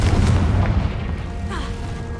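A Confringo blast spell in the Hogwarts Legacy video game lands as a loud, deep boom with a burst at the start, then a rumbling decay that fades over about two seconds.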